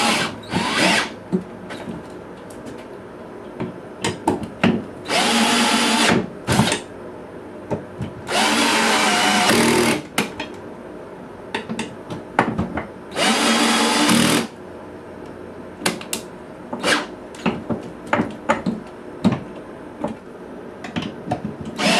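A power drill drives screws to mount an HP all-in-one computer on a wall, several multi-second whirring bursts close by, separated by clicks, knocks and handling noises, with no talk.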